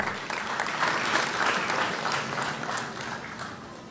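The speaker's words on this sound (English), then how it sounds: "Please, I request all of us a round of applause when we are welcoming our Vice-Chancellor." Sustained applause from a graduation ceremony audience at a stadium in Kigali, steady and dense throughout as the Vice-Chancellor is welcomed, easing slightly toward the end.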